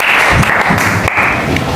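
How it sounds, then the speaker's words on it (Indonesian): Short burst of classroom applause as students clap for a classmate who answered a history question, brisk and close, lasting under two seconds. "tepuk tangan untuk teman kita yang bisa jawab"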